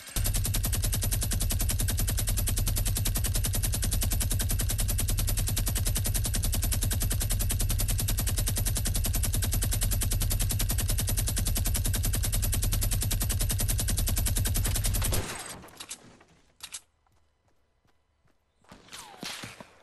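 Minigun in Fortnite firing a continuous, loud, steady rattling stream for about fifteen seconds, then cutting out into quieter game noise.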